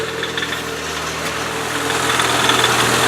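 Toyota AE86 engine idling with a slightly rattling head, giving a close, steady mechanical drone with a light ticking rattle that grows a little louder toward the end.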